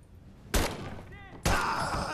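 Two sharp, loud gunshots about a second apart in the World War II shooter Medal of Honor: Above and Beyond, each with a ringing tail, fired near an airfield hangar.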